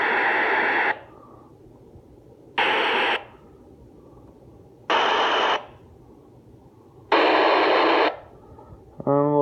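A Saber two-way radio plays back transmitted audio in four loud, even bursts of a few seconds each, with quiet hiss in the gaps and a short tonal chirp at the very end.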